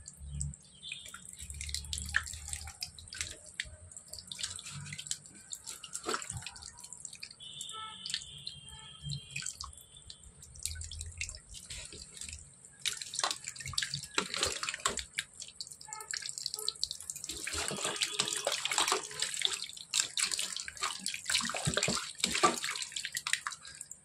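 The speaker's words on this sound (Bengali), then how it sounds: "মাংসটা আমি এখন খুব ভালো করে ধুয়ে নেব।" Tap water runs continuously into a sink while raw meat is washed, a steady splashing stream with occasional drips and shifting gurgles as the flow hits the meat and basin.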